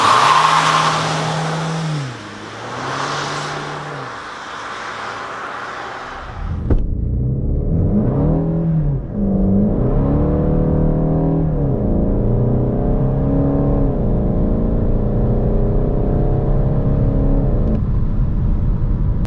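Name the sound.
Golf 8 GTD 200hp accelerating without launch control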